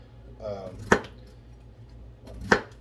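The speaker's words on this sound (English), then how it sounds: "let's chop these taters up and see what happens" A knife chopping raw potatoes, two sharp, distinct strikes a little over a second and a half apart, close and clear, with a brief murmur of voice before the first cut.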